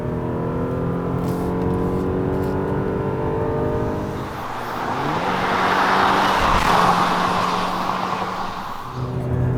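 A 2020 Kia Cadenza 2.5 takes a corner, its engine droning steadily with harmonic tones shifting as it slows and reaccelerates, with rising tire and road rush through the turn.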